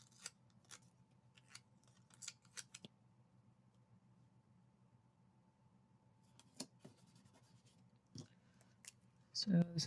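Scissors snip through paper in short, sharp cuts spread across a quiet room, some in quick pairs, with a louder rustle at the end.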